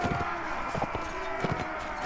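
Horses gallop in a Mount & Blade: Warband battle with an Imperial Rome mod, rapid clip-clop hoofbeats in quick uneven bursts under a voice talking.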